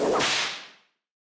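A single sharp crack of an 18-foot stockwhip, loud and close, with a brief bright swish that fades out within about a second, followed by silence.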